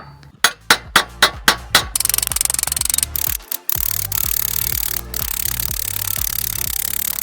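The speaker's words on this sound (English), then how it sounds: "We're gonna have to go again with the dolly and a hammer." Hammer and dolly shaping a sheet metal patch panel for a rusty wheel arch, with a series of sharp metallic strikes, first spaced, then fast and rapid, then a steady clattering run of blows close up.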